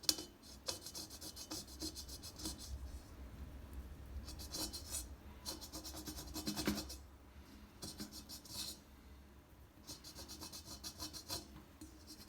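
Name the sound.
fingernail scratching dirt off a surface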